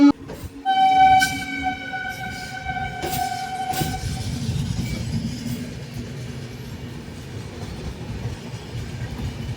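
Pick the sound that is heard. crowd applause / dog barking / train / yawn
train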